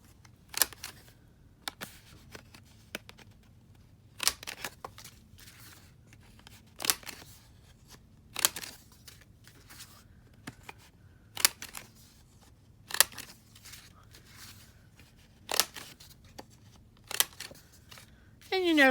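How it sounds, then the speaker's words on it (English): A corner rounder punch clips the corners of paper sheets for a 6-inch square paper pad journal, each press a sharp snapping crunch. About a dozen punches come at a steady pace over a soft low background hum. "The next thing I want to do is round the corners of all the paper."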